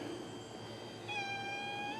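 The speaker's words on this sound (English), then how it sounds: "big old fat cat." A large, fat cat gives one drawn-out meow outdoors on a cluttered back deck, moderately close but soft, over a steady background hum with no talking.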